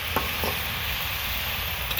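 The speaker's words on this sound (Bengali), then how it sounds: "কপি ভাজি কষানো হয়ে গেছে গা।" Cauliflower being fried and stirred in a home kitchen pan gives a steady sizzle, with a couple of short scraping stirs near the start, alone without talk.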